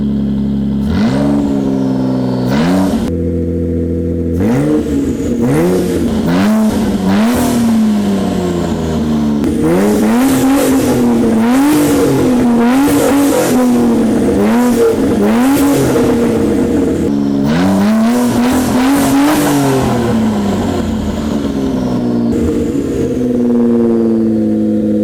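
Loud car engine with a straight-pipe exhaust and no catalytic converter, revving hard again and again in rising and falling bursts with brief lulls between pulls, raw and unmuffled throughout.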